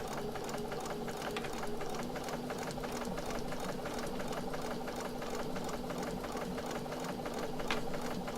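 A domestic sewing machine stitching quilted circles in fabric, running as a steady, fast mechanical whir and rhythmic needle chatter, close and continuous without pause.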